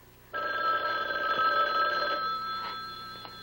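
An old-style telephone bell rings in one steady, sustained trill lasting about three seconds, fairly clear and close in a quiet indoor room.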